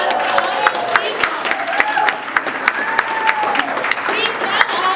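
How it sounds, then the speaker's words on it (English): Audience applause for graduates at a world community conference, a steady wash of clapping with scattered sharp claps and some voices mixed in. "Round of applause for all those people"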